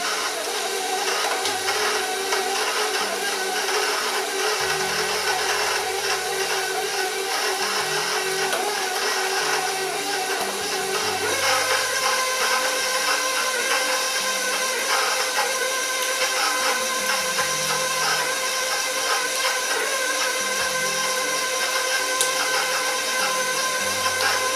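An electric mixer whirs continuously as it beats a large amount of soft butter for chocolate cookie dough, with a steady hum that shifts slightly in pitch partway through.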